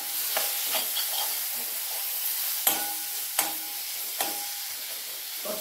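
Chopped tomatoes sizzle in hot oil for a brinjal side dish while a spoon stirs and scrapes the pan several times, a steady close frying hiss punctuated by sharp scraping strokes.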